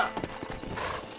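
Horse hooves clip-clop in a quick galloping rhythm in the Red Dead Redemption video game, loud and close, with a snort or whinny mixed in over about a second.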